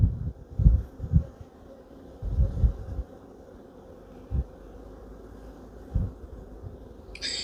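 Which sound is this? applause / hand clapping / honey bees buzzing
honey bees buzzing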